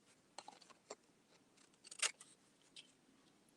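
Scissors trim a hand-drawn diploma portrait on paper with a few faint, scattered snips and cuts in a quiet room.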